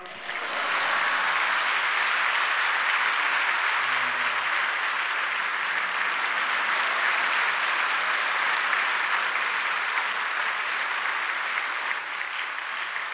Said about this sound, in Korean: 뜨거운 박수로 할렐루야 영접해 주시기 바랍니다